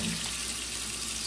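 Hot water from a tap rinsing a stainless freeze dryer tray, a steady, close hiss of running water splashing onto metal, unbroken and alone without speech.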